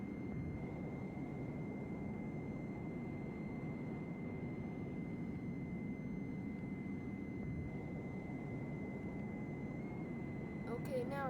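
Steady, fairly distant rumble and hum from an A-10 aircraft taxiing. A constant engine whine runs underneath and a brief faint sound comes near the end.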